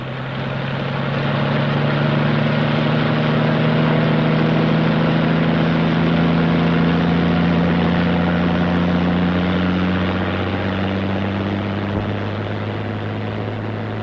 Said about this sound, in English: Specialist Bill Evans is quickly flown back to battalion headquarters